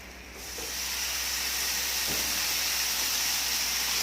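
Water poured onto Thai curry paste for a vegetarian khua kling in a hot pan, setting off a loud, steady, close hiss of steam and sizzling that holds evenly to the end.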